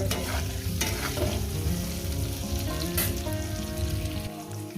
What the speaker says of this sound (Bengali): এবার এটাকে আমি তিন চার মিনিট পাঁচ মিনিট ধরে ভেজে নেবো সুন্দর করে মিডিয়াম